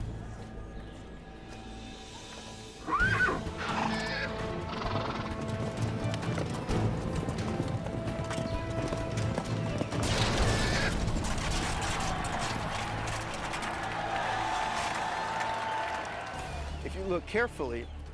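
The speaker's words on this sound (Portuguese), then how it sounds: "quando dois cavaleiros se enfrentam em combate" Horses gallop with rhythmic clip-clop hooves and whinny during a knights' jousting contest, loud and close, while someone narrates over the action.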